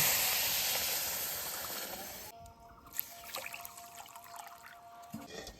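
Water is poured from a small bowl onto sugar in a pan to make syrup, a steady hissing trickle for about two seconds, then quieter clinks and handling sounds.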